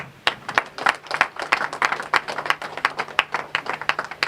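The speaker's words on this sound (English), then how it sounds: "a round of applause for Zainab Doumbouya" Audience applause at the grand opening of Trans Africa Tele Clinics in the Gambia, a steady run of close, crisp hand claps from a modest crowd, no voices over it.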